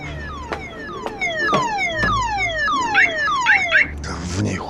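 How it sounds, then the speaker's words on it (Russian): A car alarm cycles through its melodic pattern, repeated descending and rising whooping tones sounding loud and close, punctuated by sharp clicks, with no talk over it. "Сигнализация у тебя классная, такая музыка прикольная."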